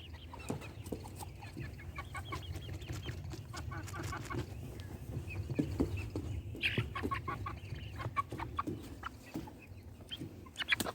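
Young chickens cluck and chirp steadily in a pen, several birds overlapping in short, close calls with occasional louder squawks and no talking.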